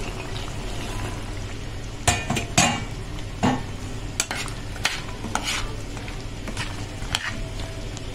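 Cut green beans stirred into a simmering tomato sauce in a pot, with a run of close scraping clinks and stirring knocks over a steady low sizzle and bubble.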